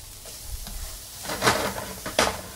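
Red onions sizzle in a hot pan, with a few scraping stirs that swell into two louder sweeps toward the end.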